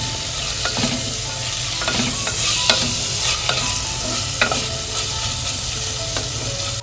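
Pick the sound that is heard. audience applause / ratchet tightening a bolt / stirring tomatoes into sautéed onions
stirring tomatoes into sautéed onions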